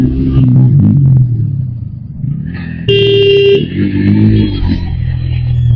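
A motorbike overtakes on a busy road, a loud close engine rumble rising and easing, with a vehicle horn blaring for under a second midway and traffic noise around it.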